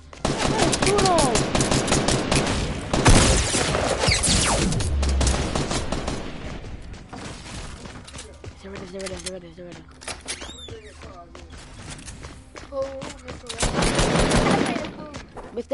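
Gunfire in the console video game Fortnite, loud bursts of rapid automatic shots and single cracks in the first seconds, then sparser shots and game effects, with voices talking throughout.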